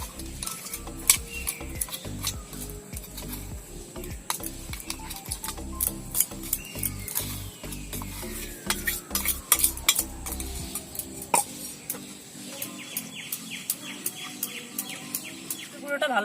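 A spoon stirs crushed biscuit powder into a milk-based kulfi ice cream mixture, scraping and tapping in a quick, regular rhythm against the pot, then fading into lighter clinks, with birds chirping faintly in the background.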